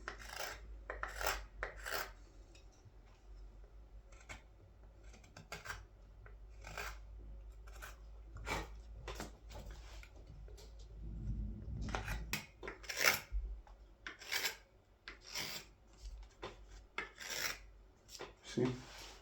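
A hand tool carves along the grain of a wooden scoop, producing repeated rasping, scraping strokes in an irregular rhythm, close and fairly quiet.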